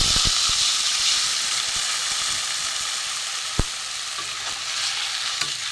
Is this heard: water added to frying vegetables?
yes